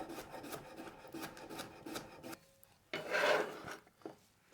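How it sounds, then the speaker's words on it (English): Half a washed, unpeeled cucumber sliced with a knife for salads, a series of quiet, rhythmic rasping cuts followed by a pause and then a louder scraping stroke. "Next up, some cucumber. Just some slices for my salads."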